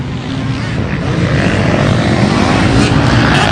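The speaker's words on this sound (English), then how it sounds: "But Dwayne gets the job done on the 433 KTM 2-2-stroke" KTM two-stroke motocross bikes race on a dirt track in a round of a motocross championship at Hastings Valley, their loud engines whining steadily and rising slightly as they pass close by.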